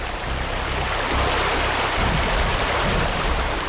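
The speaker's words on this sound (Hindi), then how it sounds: "सामने देखो वाटरफॉल कितना सुंदर है" A waterfall gives a loud, steady rushing roar of falling water, heard up close and continuous with no talking.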